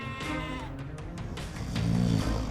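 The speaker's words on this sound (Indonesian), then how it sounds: "Betapa kambing itu menangisi anak-anaknya yang malang." A goat bleats in a drawn-out, wavering cry, with a second, louder bleat toward the end; the calls are close and clear against a quiet, steady background.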